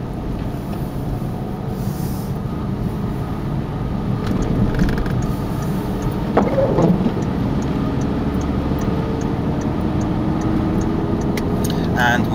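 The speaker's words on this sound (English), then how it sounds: "I'm slowing down into second gear again." Inside a car slowing for a roundabout on a snowy road in second gear, a low, continuous engine and road rumble runs steadily while someone talks over it.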